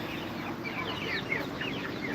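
Chickens cluck and chatter softly on a 10-acre farm, several overlapping calls at a moderate distance over steady outdoor background noise.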